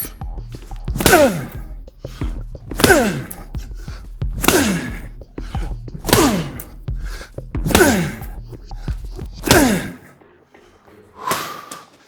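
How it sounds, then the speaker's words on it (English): Medicine ball slams during a workout land in a steady rhythm, six heavy thuds about every one and a half seconds, each paired with a forceful exhaling grunt, close and loud. "let's get these med ball slams in"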